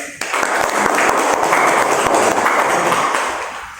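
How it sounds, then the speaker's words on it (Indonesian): A group at a meeting on beetle breeding bursts into loud, close, steady clapping that lasts a few seconds and tapers off at the end. "Saya tepuk tangan sama Pak Jenderal."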